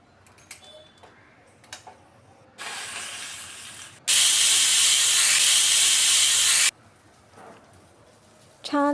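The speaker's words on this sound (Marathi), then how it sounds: "कुकर बंद करून त्याच्या 3-4 शिट्ट्या होईपर्यंत चांगलं शिजवून घ्या" A pressure cooker cooking khichdi lets out a rising hiss of escaping steam, then a loud, sustained whistle that blares steadily for a few seconds before cutting off abruptly; soft kitchen clatter surrounds it.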